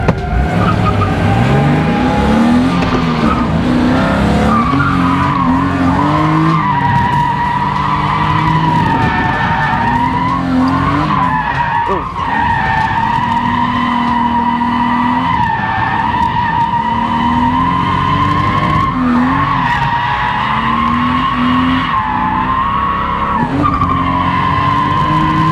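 A BMW E36 with a swapped six-speed gearbox drifts on a test track, its engine roaring steadily and loudly while the tires squeal and skid almost continuously throughout.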